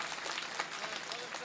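An audience at a poetry mushaira in Nanded claps in a dense, steady burst of applause, loud and close, with voices mixed into the noise.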